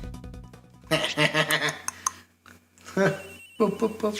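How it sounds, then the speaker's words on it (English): A phone rings in the video game Ace Attorney Investigations with a short electronic tone pattern at the start, followed by voices talking over the game's soft background. "Agent Hicks's phone. It's ringing from somewhere, sir."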